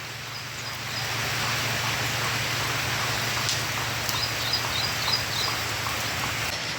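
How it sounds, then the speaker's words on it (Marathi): Steady rain falls through the night outdoors in a rural village, a constant even hiss with faint bird calls now and then and no talking. "आज गुरुवार आणि रात्रीभरपासून पाऊस चालू आहे"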